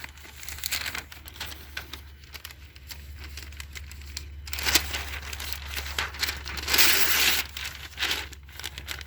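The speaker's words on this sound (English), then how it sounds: "And then I'm going to rip up some more paper." Paper is ripped and crumpled by hand for a worm compost bin, a close, busy run of tearing and crinkling rustles with louder rips midway, over a low steady outdoor hum.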